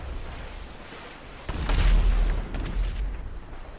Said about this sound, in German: hier scheint es ein bisschen hart zu explodieren